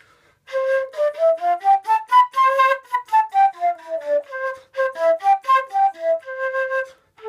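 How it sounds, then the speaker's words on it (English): A flute plays a C concert major scale, a clear sequence of sustained notes stepping up and back down one after another, close and moderately loud with no talking. "And the C sounds like this."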